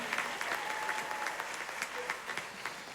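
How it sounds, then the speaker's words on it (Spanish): Loud applause for a singer at a 2021 tribute event, a steady wash of many hands clapping through the whole stretch, with a few voices faintly mixed in. "un aplauso fuerte para Budi"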